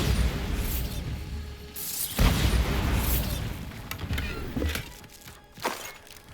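Bombarda blasting spell explosions in Hogwarts Legacy, a couple of heavy booming bursts with crackling debris over a dense rumbling game soundscape, fairly loud and close.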